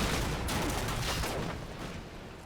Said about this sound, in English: Some more grenades going out.